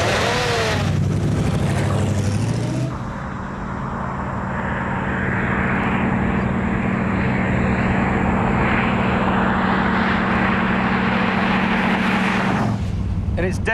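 A loud V8 car engine roars steadily for several seconds, a deep sustained rumble that swells after a brief lull and then cuts off.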